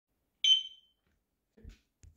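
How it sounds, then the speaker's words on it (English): A eufyCam 2 Pro wireless security camera gives one short, bright electronic beep after its sync button is pressed, followed by faint clicks and handling noises in a quiet room. "Press the sync button until you hear the beep."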